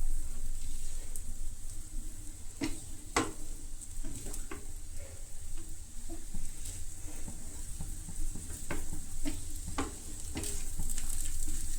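Egg fried rice with oyster sauce sizzles steadily in a hot pan, with a continuous crackle broken by sharp scrapes and clinks as a spoon stirs it, close and fairly loud.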